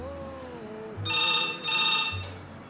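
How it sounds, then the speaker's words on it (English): A telephone rings in two bright electronic bursts with a pause between, loud and close, while a person talks before and between the rings. "Hey, the phone's ringing, somebody get the phone."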